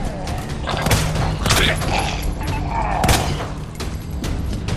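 Gunfire and impacts from the Resident Evil 2 Remake No Way Out DLC come as repeated sharp bursts and thuds mixed with game mechanisms, heard under a busy, fairly loud soundscape.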